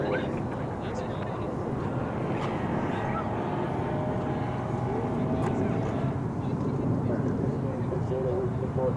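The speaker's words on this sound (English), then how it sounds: "It's an Airbus A321 American flight 1658" An American Airlines Airbus A321 passes at DFW Airport, a steady mid-distance jet engine rumble and roar holding level throughout, with a faint tonal whine rising through the middle.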